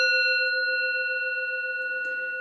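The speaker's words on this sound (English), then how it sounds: "So my singing bowl sounds like this." A singing bowl struck once, its pure layered tone ringing steadily and fading slowly with a gentle waver, heard alone in a quiet room.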